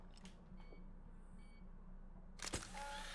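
Timer beeps tick quietly in the It Takes Two video game before a sharp camera shutter snaps near the end, followed by a soft chime over steady background game ambience.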